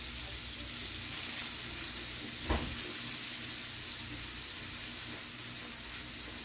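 Shrimp for hot honey tacos sizzle steadily in a hot pan, a continuous close frying hiss with one brief clatter partway through, no talk.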